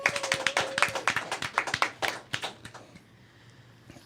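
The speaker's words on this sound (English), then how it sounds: "Now we get a clap." Group clapping at the opening of a talk show taping, a burst of many quick overlapping hand claps from a small audience that thins out and fades over about three seconds.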